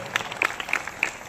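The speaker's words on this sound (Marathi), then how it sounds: "जोरदार टाळ्या वाजवून आपण या सर्व मान्यवरांचं स्वागत करायचंय।" Scattered, fairly light clapping from a crowd at a school Republic Day flag-hoisting event, welcoming dignitaries, with a few distinct claps standing out over a murmuring background.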